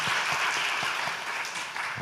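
A church congregation applauding steadily, a dense wash of many hands clapping at once, fairly loud and continuous for the whole stretch.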